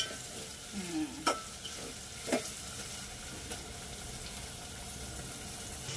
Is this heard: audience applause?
no